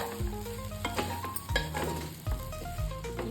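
Moong dal uppittu sizzles in a pan while being stirred, with repeated scraping strokes and clinks of a utensil against the pan over a soft, continuous frying hiss, fairly quiet and close.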